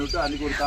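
A rooster clucks loudly and close by in a short burst, with a voice faintly underneath.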